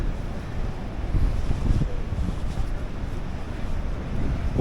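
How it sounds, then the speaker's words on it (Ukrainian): Wind gusts and rain on the Vereda do Risco cliff trail in Madeira, a loud, constant rumbling buffet against the microphone that swells and eases without pause, with no voices over it. "Це дощ, це вітер тут."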